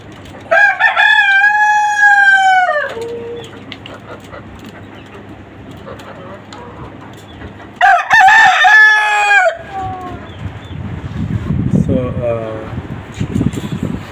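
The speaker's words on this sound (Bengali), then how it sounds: "এরকম খাঁচা করে মুরগি পালন করা শুরু করেছি।" Caged chickens on a small urban farm in Dhaka cluck steadily while a rooster crows loudly twice, the second crow coming after a quieter stretch of fowl noise and background chatter.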